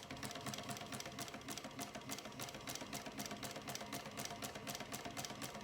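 A Juki 1541S industrial sewing machine stitches cotton fabric in a rapid, even run of mechanical needle strokes, a steady close whirring clatter with regular pulses and no talking.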